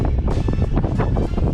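Outdoors while bass fishing, gusty wind buffets the microphone with a constant, loud, rumbling roar through the whole moment.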